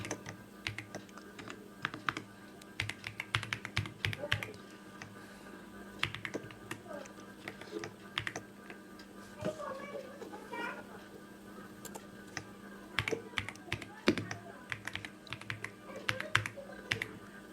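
Keys on a computer keyboard clatter in irregular bursts and single taps, fairly close but quiet, with pauses between runs of typing.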